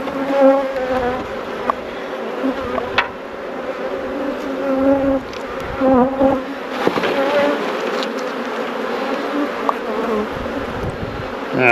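Welsh Black bees buzz continuously in a small nuc hive, a dense droning hum that stays close and steady, with occasional brief louder passes.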